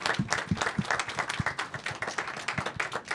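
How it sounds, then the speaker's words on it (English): Applause from a press conference audience honoring a baseball award winner, a dense burst of many hands clapping that carries steadily at moderate loudness, with no speech over it. "A round of applause to Aaron Judge."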